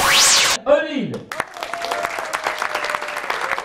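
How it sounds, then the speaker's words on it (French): An audience at an evening awards show for a car rally applauds after a loud descending sound effect, clapping building steadily with some voices mixed in. "Vous pouvez applaudir Olive."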